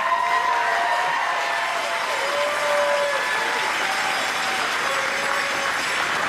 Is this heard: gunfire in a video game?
no